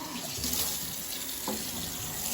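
Hot water gushes steadily from a tap into a container, a water heater set to about 130 degrees feeding it; a close, continuous rushing splash with no voices.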